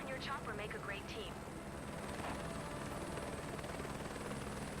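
A helicopter in Microsoft Flight Simulator 2024 drones steadily during an agricultural spraying mission, a constant low, dense rotor and engine wash, with a brief chirpy sound near the start and faint talk mixed in.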